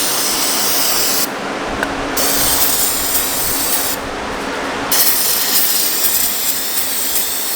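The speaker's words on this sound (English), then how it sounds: "Hit with some brake clean to get this stuff off." Brake cleaner hisses in long, loud, steady sprays across engine cylinders on an Ecotec engine, close to the microphone, broken by two short pauses between bursts.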